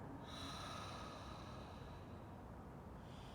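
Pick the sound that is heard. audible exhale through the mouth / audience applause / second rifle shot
audible exhale through the mouth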